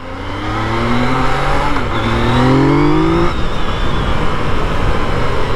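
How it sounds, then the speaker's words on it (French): A motorcycle engine revs up steadily while riding, rising through the gears for about three seconds before easing off into a rougher, steady drone with road noise. It sounds close and loud, with no talking. "on va aller gentiment aller la rouler. Je vais vous montrer pourquoi ce moteur est incroyable."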